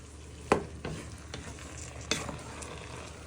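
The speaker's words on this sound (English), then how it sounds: "And you want to give that a stir in" Pork fried rice with egg pieces is stirred in a pan, giving a quiet, soft frying hiss with a few sharp spatula knocks and scrapes against the pan, the loudest near the start and again partway through.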